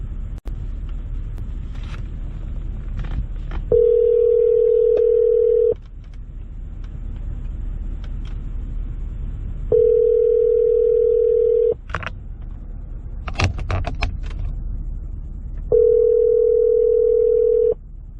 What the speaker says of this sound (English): So I'm gonna call the number that's on the collar here and see what happens.